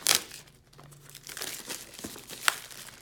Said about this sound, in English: So let's go ahead and get this unwrapped